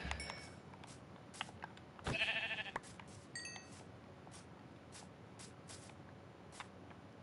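Sheep bleat in the Minecraft video game, a single short bleat standing out midway over a faint, quiet background with scattered soft clicks.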